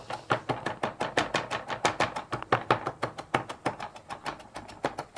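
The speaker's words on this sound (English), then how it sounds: "Just a rough chop for you to throw in there last minute." A kitchen knife roughly chopping food on a cutting board, quick steady rhythmic thuds, about four per second, close and clear with no talking.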